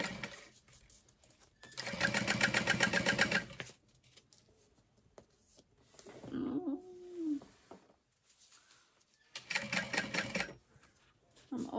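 A sewing machine top stitches the folded edge of a backpack slip pocket in two bursts of rapid mechanical chatter, with a quieter pause between them where a brief tonal sound and a little handling noise appear.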